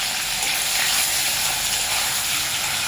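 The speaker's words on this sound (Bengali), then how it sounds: "তো পনিরটা এখন হালকার মতন ভাজবো" Paneer fries in a pan with a steady, loud, bright sizzle and hiss that holds constant from start to finish, with no one speaking over it.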